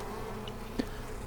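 Honey bees buzz in an open hive during a colony split, a dense continuous hum close by with a single bee drifting past, and no one talking.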